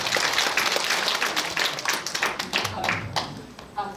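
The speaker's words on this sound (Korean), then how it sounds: "그러면 약속하신 의미에서 박수 쳐주세요" People at a Buddhist dharma service clap, with bursts of close hand claps that taper off while talking continues underneath.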